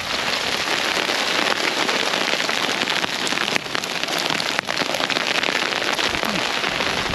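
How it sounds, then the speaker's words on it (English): Hailstones fall during a sudden storm, producing a loud, dense, continuous patter close by that holds steady throughout, with no talking. "And it's yeah, hailstones."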